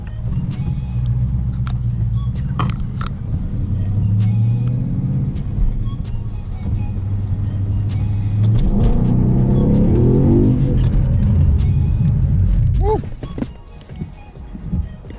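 A Ford Mustang GT S550 drifts on a rain-soaked street, its engine a loud, close rumble that swells into a revving surge before easing off near the end.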